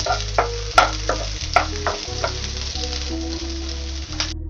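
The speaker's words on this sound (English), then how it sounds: "we'll be putting some chopped onions, and we'll gently fry this for some minutes" Chopped onions frying gently in a pan for a fish biryani curry, a soft sizzle broken by clicks and clacks of stirring, heard close over a steady low electrical hum with no voices.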